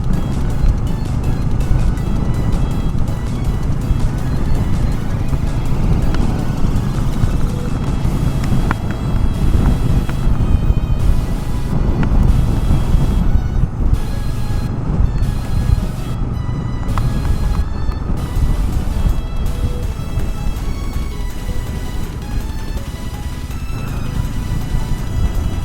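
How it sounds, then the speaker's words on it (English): Strong coastal wind on the road to Dhanushkodi batters the microphone in a continuous, heavy low roar with gusty swells, loud and unbroken for the whole stretch. "The wind is constantly hitting"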